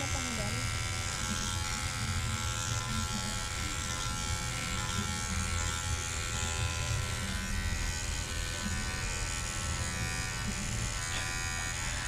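Electric hair clipper removing hair buzzes steadily and close throughout, with people talking over the constant motor hum.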